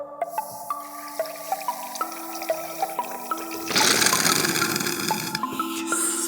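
Air blown through a straw into a water bottle makes rising bubbling tones, then a loud burst of splashing water near the end.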